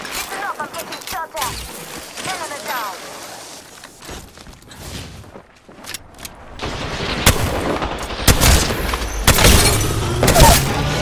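Gunfire in a shooter video game: scattered shots and thumping blasts, growing denser and louder toward the end, with a player talking over the action.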